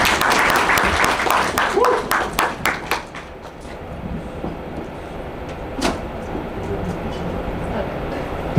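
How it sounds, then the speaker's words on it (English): Audience applause at a mastermind event, a burst of dense clapping that tapers off after a few seconds into scattered claps and room noise, with voices around it. "Clap it up, give it up for her, give it up for her."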